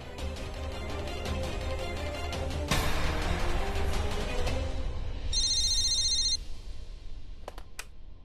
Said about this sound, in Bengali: আমি পুলিশকেই ফোন করছি।